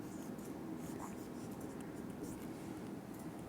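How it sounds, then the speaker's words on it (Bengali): Handwriting during a history lecture, with a faint, steady scratch of a pen or marker running continuously under low background hiss and no speech. "এখন এখানে লিখছি"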